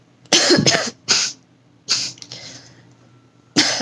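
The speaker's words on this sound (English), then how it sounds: "I try to suppress the cough as much as I can because I hate coughing." Repeated harsh coughs from an adult recovering from COVID, heard close up in four separate bursts with short pauses between them and no talking.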